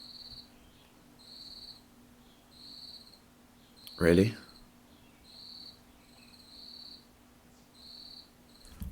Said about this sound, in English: there's a really annoying cricket